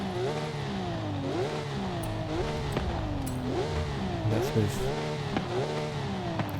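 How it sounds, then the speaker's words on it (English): A Porsche 911 GT3 engine with upgraded exhaust revs up and down repeatedly in rising and falling sweeps, loud and close, with someone speaking briefly over it, in the video game Forza Horizon 5. "I'll give it a bit of revs now."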